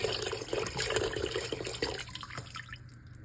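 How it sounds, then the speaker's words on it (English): Water splashes and trickles steadily for a few seconds as about 8 cups are poured into a pot, then thins out to a lighter dribble near the end. "Pouring in about 8 cups of water with all this."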